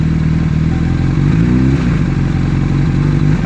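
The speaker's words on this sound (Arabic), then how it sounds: "انا دلوقتي هزود بنزين وانا دايس دبرياج عشان اوريكم" A motorcycle engine revs with the clutch held in, a loud idling putter that rises in pitch as the throttle opens, then settles back to a steady idle.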